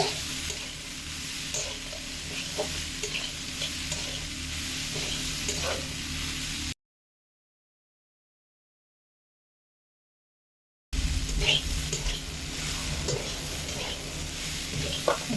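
Chickpeas with spices sautéing in a pan, a low steady sizzle with small stirring scrapes, cut off by several seconds of dead silence before the same sizzle resumes, with no talking.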